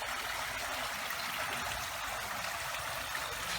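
An artificial waterfall in a home garden pours without pause, a dense steady hiss of falling and splashing water heard up close with no voices.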